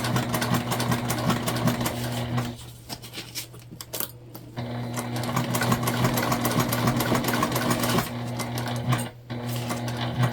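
A sewing machine stitching a seam on a multi-panel tote bag, a loud, fast continuous whir with a steady hum, briefly pausing twice before running on.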